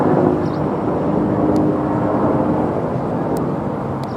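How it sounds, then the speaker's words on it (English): A black helicopter passes directly overhead, flying slowly, its broad low rumble and rotor wash loud, close and steady throughout, with no talking. "There's your black helicopter,"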